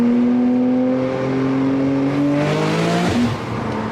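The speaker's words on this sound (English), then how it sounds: "Yo, Turbo S's do not sound bad. It sounds like a fucking monster." A Porsche Turbo S sports car engine revs up nearby in a loud, steadily rising whine, then cuts off abruptly and drops back toward idle near the end.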